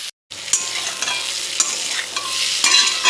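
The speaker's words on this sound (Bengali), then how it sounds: "আমি একটুখানি লাল করে ভেজে নিই" Sliced potato, pointed gourd and onion sizzle in hot oil in a pan, a close, continuous bright crackle with repeated scraping stirs of a spatula.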